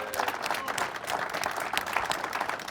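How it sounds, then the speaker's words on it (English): An audience of Farm Bureau members at the organization's headquarters applauds, a steady, even round of many hands clapping, moderately distant and without anyone speaking over it. "Big round of applause."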